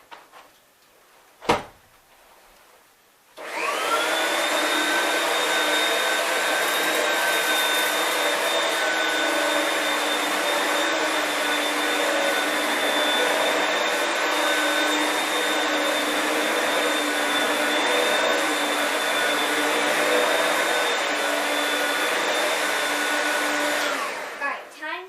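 An Oreck XL2 upright vacuum cleaner switches on after a sharp knock and runs with a steady, loud motor whine and airflow hiss for over twenty seconds before powering down, nobody speaking.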